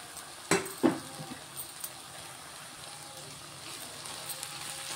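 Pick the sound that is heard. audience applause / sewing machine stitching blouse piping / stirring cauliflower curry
stirring cauliflower curry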